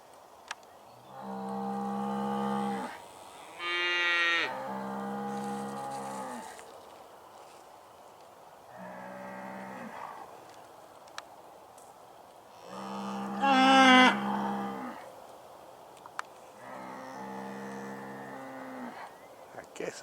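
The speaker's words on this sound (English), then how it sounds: "These are Scottish Highland cows." Scottish Highland cows low repeatedly at close range, several long, harmonic moos spaced a few seconds apart, some rising into higher bellows, over a quiet outdoor background.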